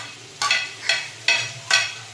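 Coriander and curry leaves sauté in a hot pan for a pirandai thuvaiyal, with four distinct bursts of sizzling as the mixture is stirred at a steady rhythm, close and alone.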